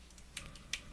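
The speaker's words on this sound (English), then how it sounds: "I type a URL here" Quiet keystrokes on a computer keyboard, a few light clicks in quick succession with two sharper taps, faint and close in a quiet room.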